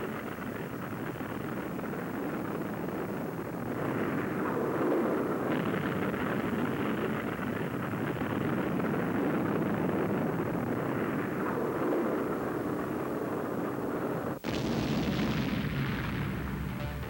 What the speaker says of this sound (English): This Maverick is started down the track by a booster rocket.